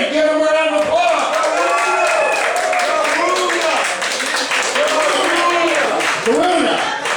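A lively crowd at a raucous stage show claps and cheers to welcome a performer, loud continuous applause mixed with whooping and shouting voices throughout.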